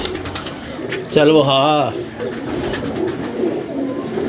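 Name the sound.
pigeons cooing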